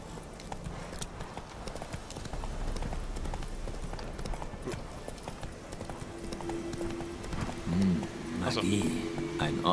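Rhythmic hoofbeats clip-clop steadily throughout, with a horse snorting or whinnying near the end amid ambience from the video game The Witcher 3.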